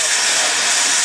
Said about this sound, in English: They're just draining the compressors now.